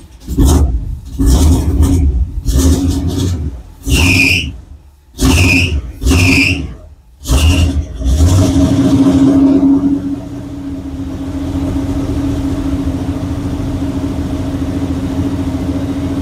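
A square body Chevy hot rod with a carbureted engine cranks in several rhythmic bursts, then catches. It settles into a steady, loud idle of about 1300 RPM, close by and with no voices.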